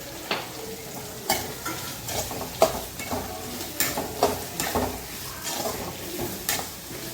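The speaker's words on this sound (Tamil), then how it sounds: "இந்த நேரத்தில் நம்ம தக்காளியும் சேர்த்து அதோடய வதக்கிடலாம் சால்ட்டு சேர்த்துக்கணும்" Onion and tomato sautéing in a pan with salt, a steady low sizzle broken by repeated scraping stirs of a spoon against the pan, close and fairly quiet, no voices.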